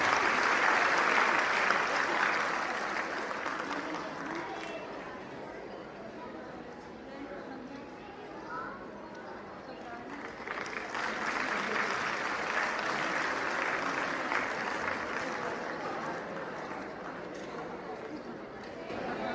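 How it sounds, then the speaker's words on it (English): Audience applause fills a school annual prize distribution function, a sustained wash of clapping from a large crowd that dips briefly midway and then swells again, with faint chatter mixed in. "A big round of applause for Ms. Bindu."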